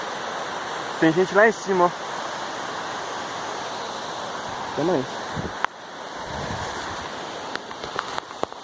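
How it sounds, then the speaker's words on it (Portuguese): A forest waterfall gives off a constant, even rush of falling water throughout, while people talk and call out briefly over it. "Olha lá em cima. Cachoeira, ó."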